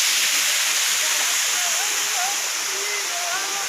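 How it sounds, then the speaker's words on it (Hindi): A village waterfall in Mirzapur pours in a constant loud, close rush of water that fills the whole stretch, with faint chirps or calls over it. "देखिए पानी आ रहा है, कितना अच्छा है पानी"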